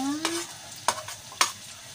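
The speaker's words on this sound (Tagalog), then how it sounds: "igisa natin yung luso na" Garlic sautéing in a pan, with a soft steady sizzle and three sharp scraping stirs of a utensil against the pan, spaced about half a second apart.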